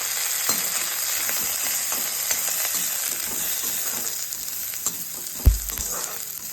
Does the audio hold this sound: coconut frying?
yes